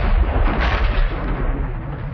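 Guided anti-tank missile fire and blasts in a war documentary on the 1973 October War in Sinai, a dense, rumbling roar of explosions and gunfire filling the whole clip, loud and continuous with no voices.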